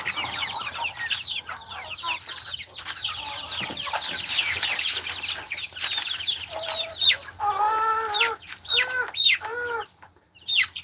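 A flock of chickens clucks continuously on a farm, many birds overlapping in a busy chatter with some louder, drawn-out calls from nearby hens toward the end.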